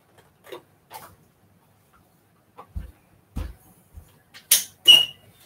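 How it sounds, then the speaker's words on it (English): A dog at home hooks its paw under a door and pulls it open: scattered soft scrapes and creaks, a few low thumps, then two louder rattling bursts near the end, with no talking. "She sticks her paw under the door and pulls it, so it just sounds like someone's trying to get in the house."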